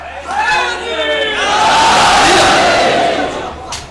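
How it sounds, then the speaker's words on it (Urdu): A large gathering at a Shia religious sermon roars back in unison to the Naara-e-Haidar slogan, a loud sustained crowd shout swelling and fading over a few seconds. "نعرہ حیدر"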